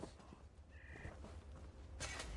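A crow caws a couple of times in The Elder Scrolls Online, short harsh calls set against quiet game ambience, with a louder burst near the end.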